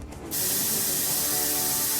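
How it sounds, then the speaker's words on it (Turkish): Dexe hair-thickening spray for bald or thinning spots hisses out of the can onto hair in one steady, close burst that starts abruptly and runs without a break. "Dekse spreyi saçınızda kellik ve seyrelme olan bölgeye sadece sıkın ve tarayın"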